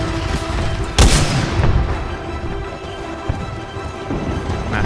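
A Mastiff shotgun in the video game Titanfall 2 fires a heavy, booming blast, followed by a second fainter shot, amid loud continuous battle noise.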